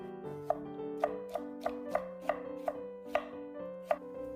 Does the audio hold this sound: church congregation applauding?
no